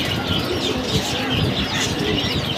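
A sick pigeon coos in low, repeated throaty murmurs, close and continuous, with a faint chirp and slight wing rustle in the background.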